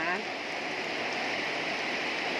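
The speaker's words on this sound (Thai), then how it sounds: "ฝนตกเนาะค่ะ เห็นไหมคะ ฝนตกแห้งแห้งค่ะ ถ่ายจากมุมหน้าต่างค่ะ" Steady rain falling outside during a storm, heard from a window as an even, continuous hiss with no letup, fairly close and loud.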